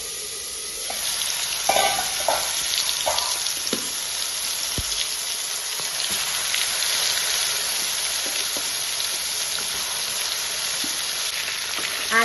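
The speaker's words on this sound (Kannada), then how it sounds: "ಇದು ಎಣ್ಣೆ ಕಾಯ್ತು ನೋಡ್ರಿ, ಬದ್ನಿಕಾಯಿ ಹಾಕಿ ನೋಡ್ರಿ." Eggplant frying in plenty of hot oil in a pan, a dense steady sizzle close by, with slow scraping and clattering strokes of a stirring spoon breaking through now and then.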